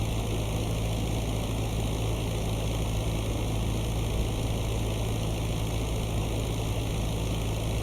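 Stuka dive bomber engine in IL-2 Great Battles, a steady loud propeller drone with a constant pitch that holds unbroken throughout, close and alone with no voices.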